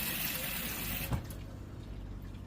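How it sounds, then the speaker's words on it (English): Hot water runs from a tap in a 2016 Coachman Olympia 380 caravan, a steady close rushing hiss that continues throughout, broken by a brief clunk partway through. "we do have some nice hot water running here"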